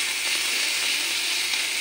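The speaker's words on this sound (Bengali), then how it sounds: "সবজিটি ভাজা ভাজা হয়ে গেছে।" Chopped vegetables with ginger and green chilli frying in a pan, a loud continuous hissing sizzle that holds steady and close throughout, with no voices.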